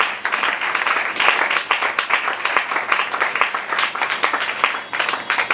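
A church congregation at a Sunday worship service applauds the Lord, with loud, sustained, dense clapping from many hands that runs unbroken throughout.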